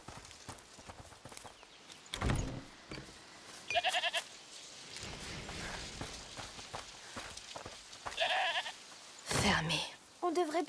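A goat in the video game A Plague Tale Requiem gives several short bleats, scattered among game sounds and footsteps, while people talk over much of it.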